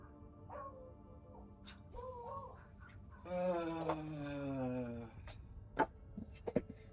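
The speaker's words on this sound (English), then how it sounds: "The only reason the dogs are barking is because the neighbors' dogs are barking." Dogs barking and yipping in a home at night, set off by the neighbours' dogs; short sharp barks come mostly at the end, with whimpering tones and a stretch of voice-like sound in the middle.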